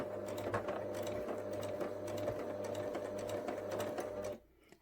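A sewing machine runs steadily, stitching the brim fabric of a small flat cap, a close, even mechanical whir with a rapid rhythmic needle beat that stops abruptly near the end.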